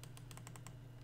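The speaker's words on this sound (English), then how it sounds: "Right clicking doesn't do anything." Rapid computer mouse clicks while crafting pineapple slices in the game Cube World, about seven crisp, close clicks in quick succession over a steady low hum.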